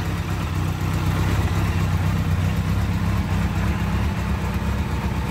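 A restored Kawasaki KZ1100 motorcycle engine runs steadily at idle, a loud, continuous close-up rumble with no talk over it.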